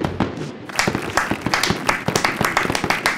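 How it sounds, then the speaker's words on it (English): Podcast hosts applauding themselves on their 100th episode: close, quick hand claps from a few people, rapid and uneven, lasting a few seconds. "Let's give ourselves a round of applause."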